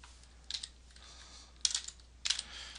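Someone types on a computer keyboard in three short, quiet bursts of rapid key clicks with brief pauses between them and no voices.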